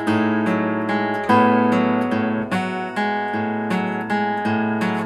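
Slow fingerpicked arpeggio on an acoustic guitar from a song, two strings plucked together at the start of some figures. Notes ring and overlap in a steady, unhurried pattern, close and clear with no voices.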